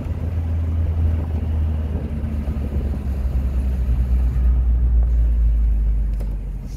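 A 1975 Citroen DS23 Pallas with fuel injection and Citromatic gearbox rumbles loudly from inside the cabin while driving, a deep steady engine drone that shifts slightly as it drops down a gear.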